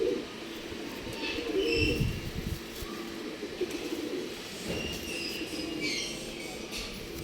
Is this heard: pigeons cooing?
yes